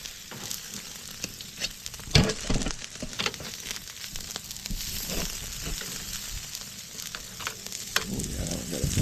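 Meat sizzles steadily on a smoking barbecue grill, a continuous crackling fry with scattered pops and a brief louder burst, close and even throughout with no talking.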